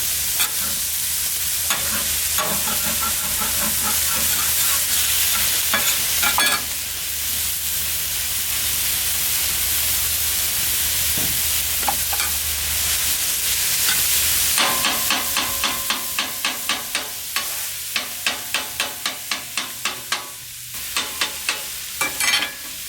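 Oil hisses on a hot griddle while chicken lettuce wraps are cooked, a loud, steady sizzle that later picks up a rhythmic run of scraping taps as the cooking continues.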